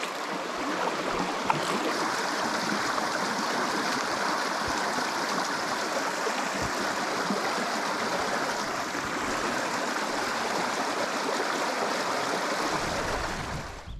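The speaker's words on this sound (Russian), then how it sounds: "Прямо из-под камня Красного такой вытекает подземный ручей, карстовый." An underground karst stream flows out from under a red rock beside the Koyva river, giving a steady, close, even rush of water that continues unbroken until it cuts off at the end.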